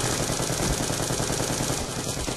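Rapid automatic gunfire in the Black Ops 2 online shooter, a dense unbroken burst of loud shots filling the whole stretch with little pause, heavy low thump under sharp cracks.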